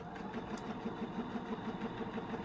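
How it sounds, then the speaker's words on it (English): A sewing machine stitching at a steady pace, with a soft, fast rhythmic whir that stays quiet and even for a couple of seconds with no talking. "Don't you just love the sound of a sewing machine?"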